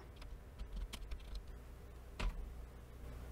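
Typing commands on a computer keyboard while setting up Openmediavault on a Raspberry Pi: a quiet run of scattered key clicks with one louder keystroke, like Enter, near the two-second mark.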